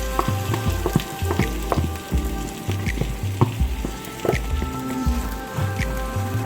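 Beans frying in a pan for a vegan chipotle bowl give off a steady crackling sizzle, broken by soft stirring clatter and a few scraping knocks, with no talk over it.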